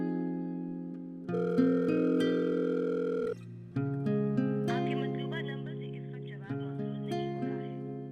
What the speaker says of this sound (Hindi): अफजल को फोन करता हूं।